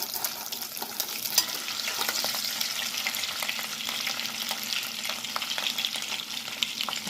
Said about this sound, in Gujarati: થોડા ગોલ્ડન થાય ત્યાં સુધી આપણે એને તળીશું.